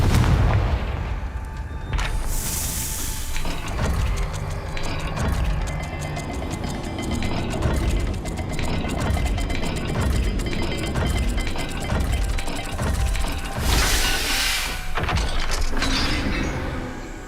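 Stone dial puzzle mechanisms turning and locking in Hogwarts Legacy, heavy grinding clunks and ratcheting over a rumbling game soundtrack, with loud booming impacts near the start and again toward the end.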